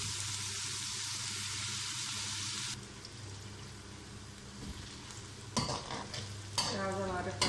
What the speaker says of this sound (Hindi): प्याज हमारे फ्राई हो चुके हैं